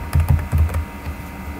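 Typing on a computer keyboard while entering WordArt text in PowerPoint 2013: a quick cluster of close, soft key taps in the first second, then trailing off into quiet room tone, with no voices.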